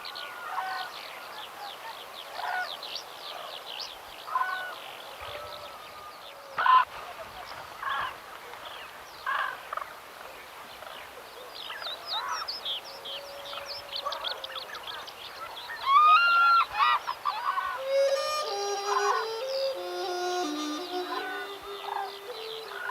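Black-necked cranes, wetland birds endemic to the Tibetan plateau, call in a wetland and crop-field setting in Yunnan, giving repeated bugling and honking cries over a dense chorus of other bird calls, loudest near the end.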